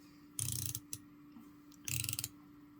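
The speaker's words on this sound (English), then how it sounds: "Bezel action" Rotating bezel on a First Stage Shoal Deep dive watch turned in two short bursts of crisp, rapid ratcheting clicks, close and quiet, with a single stray click between them and a faint steady hum behind.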